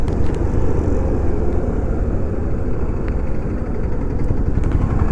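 Motorcycle engine droning steadily during a morning ride toward the beach in Kozhikode, a loud continuous rumble with road and wind noise and no breaks.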